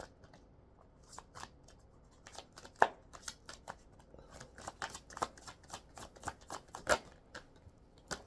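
Tarot card deck shuffled by hand, a run of quick crisp riffles and soft card slaps in an irregular rhythm, close and fairly quiet with no talk.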